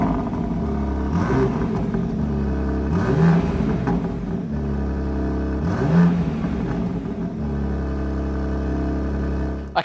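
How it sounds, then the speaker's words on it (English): A 2023 BMW M2 with a 3-litre twin-turbocharged six-cylinder petrol engine revving, loud and close, with repeated rising throttle blips over a steady droning idle. "do you want to hear what this sounds like when it's revving?"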